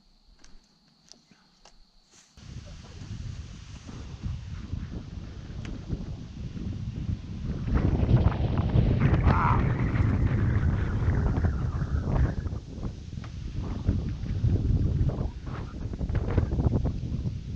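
Wind buffets the microphone on a lake during a fishing trip from a boat, a rough low rumbling roar that swells and gusts unevenly after a quiet start, with people talking faintly underneath.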